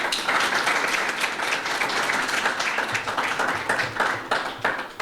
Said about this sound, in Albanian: Andaj një duartrokitje për drejtorin.